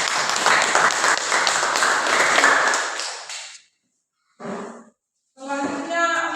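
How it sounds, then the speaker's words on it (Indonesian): A burst of group applause after a class presentation, dense clapping for several seconds that stops abruptly, followed by short bursts of speech. "Sekali lagi tepuk tangan."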